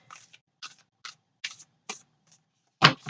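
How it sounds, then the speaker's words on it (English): Cards from the Spirit Animal Oracle deck by Colette Baron-Reid being shuffled, giving a series of short, crisp riffling bursts spaced out, then a louder, fuller shuffle at the end, close and quiet, with no talking. "I am shuffling the Spirit Animal Oracle deck by Colette Baron-Reid"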